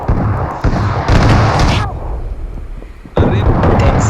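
A grenade explosion in the PUBG Mobile game lands as a heavy, booming burst with rumbling blasts and gunfire-like cracks, loud and close, mixed in with game sounds.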